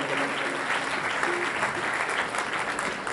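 An audience at an award ceremony for a satsang grand finale claps in loud, steady applause that continues throughout, with no pauses.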